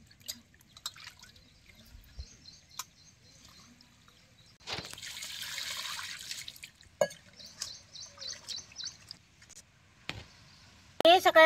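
Garlic being rinsed in water outdoors, with scattered light splashes, drips and sloshing bursts, faint and intermittent, plus a few sharper knocks.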